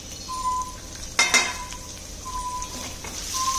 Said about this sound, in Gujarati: તેલ ગરમ થાય એટલે આપણે એમાં ક્રશ કરેલું 1 ચમચી જેટલું લસણ, 2 ચમચી જેટલું આદું અને થોડું લીલું લસણ એડ કરી દેવાનું છે